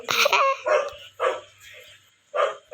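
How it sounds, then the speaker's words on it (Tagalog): Several sharp, loud dog barks from a Roblox video game in quick bursts, spaced by short pauses, with a faint low hum underneath. "Ang ingay naman ng mga aso."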